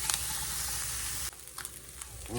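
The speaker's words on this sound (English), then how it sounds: "Let our onions and peppers get cooked a little bit, okay?" Onions and peppers sizzle steadily in a pan over medium heat, a dense, even crackle that drops in level partway through, with a few brief clinks and stirring noises near the end.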